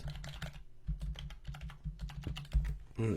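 Test credit card details typed on a computer keyboard at a quick, uneven pace, close and clear, with a few heavier key presses and a brief louder clatter at the end.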